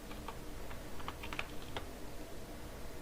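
Typing on a computer keyboard while entering a username into a Java program, a quick run of light clicking keystrokes in irregular bursts over a steady background hiss, with no talking.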